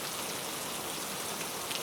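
Rain falls continuously in a broad, even wash of patter and hiss on a wet surface, steady and alone with no voices.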